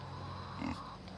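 A pig grunts once, fairly close, over a steady low farmyard hum and background noise in a pen shared with chickens.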